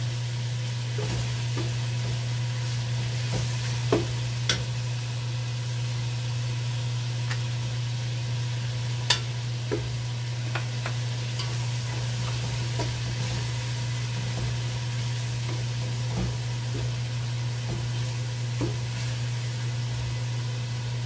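Shrimp paste (alamang) sizzles in a pan while being stirred, a continuous loud frying hiss broken by sharp utensil scrapes and clicks, with a steady low hum underneath and no talking.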